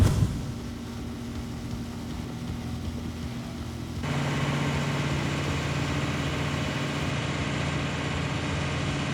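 A Mercedes-AMG ONE hypercar engine idles before a drag race against a McLaren P1, a steady low hum heard from inside the cabin that steps up slightly in level partway through, with no talking.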